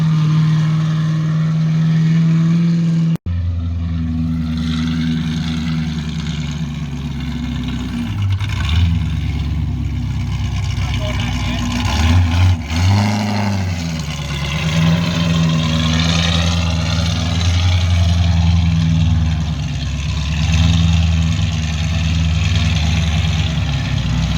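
Off-road race vehicle prepped for King of the Hammers driving slowly around to warm shocks and steering: a steady, loud low engine drone with mild swells in revs, close and continuous, no voices.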